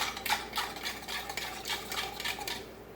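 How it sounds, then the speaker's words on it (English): A utensil swirls and clinks through a marinade in a bowl, dissolving the seasoning in a steady run of quick scraping taps, close and fairly soft, with no talking. "you give this a quick mix just so it'll dissolve"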